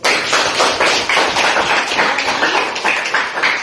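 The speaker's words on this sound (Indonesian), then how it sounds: "Tepuk tangan dulu." A classroom of students claps together in quick, rhythmic bursts, loud and close, repeated steadily for a few seconds.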